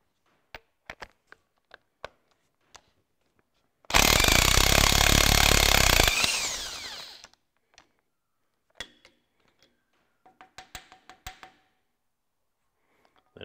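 A ratchet with an 11/16 socket loosens the cylinder head nuts on a Ferguson TEA20 tractor. Sharp isolated clicks lead into a loud sustained ratcheting burst of about two seconds, followed by scattered taps and a short run of clicks.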